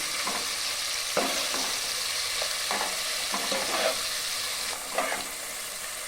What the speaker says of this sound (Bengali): পেঁয়াজগুলোকে এইভাবে আমি হালকা করে নেড়ে চেড়ে ভেজে নেব